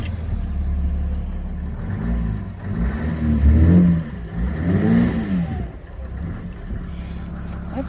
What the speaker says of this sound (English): Here's the moment of starting it up. Now remembering, this actually doesn't have a muffler at all.